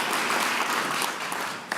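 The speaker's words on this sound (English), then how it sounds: "let's give her a big welcome, a round of applause for being here" An audience at a community summit applauds a guest, with dense, steady clapping at fairly close range that thins slightly toward the end.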